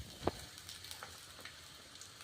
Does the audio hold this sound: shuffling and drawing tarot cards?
no